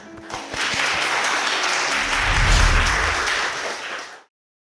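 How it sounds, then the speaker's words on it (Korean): An audience applauds after a series of student presentations at a university web development course, a dense burst of clapping swelling for about four seconds before cutting off. "각자 자리에서 열심히 노력해준 여러분께 큰 박수를 보냅니다."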